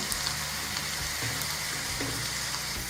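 Chicken vada deep-frying in hot oil and being flipped, a dense close continuous sizzle with soft scraping and bumps as the pieces are turned.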